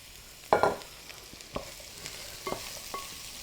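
Large hand-chopped onions hitting a pan for a masala, with an initial burst of sizzle followed by a quieter steady fry and several light spoon knocks and stirs, close by and with no talking.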